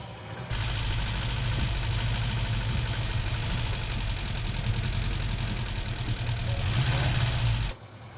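Barn find car on its first drive in ten years, its engine humming steadily at low revs for several seconds and swelling slightly near the end before cutting off.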